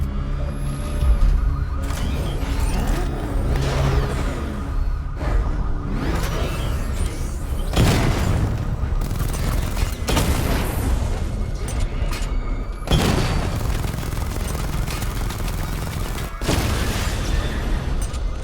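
Batman Arkham Knight weapon fire and explosions destroying targets during a diagnostic test, a long rumbling stretch of engine drone broken by several heavy booming blasts at intervals, with faint voice in places.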